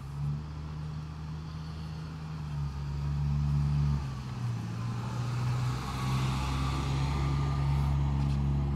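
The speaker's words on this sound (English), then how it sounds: "there's a big bus behind me and it might be a little bit loud" A big bus passing close by on a road, its deep engine drone and tonal hum shifting as it moves past, loud and continuous for several seconds during an outdoor walk.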